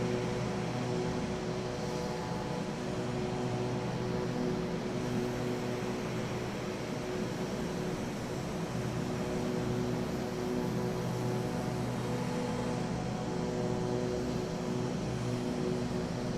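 Piaggio P180 twin propeller engines drone in the Microsoft Flight Simulator video game during cruise, a constant, even, tonal hum with broadband whoosh that holds unchanged throughout without talk.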